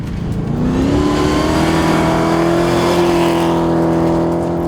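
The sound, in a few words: classic Mercedes rally car driving on rally stage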